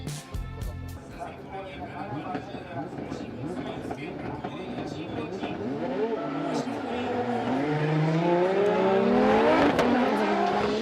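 Drift cars roar and rev loudly with rising engine pitch and squealing tires, building in intensity while a commentator talks over the action, at a Formula Drift Japan competition at Suzuka.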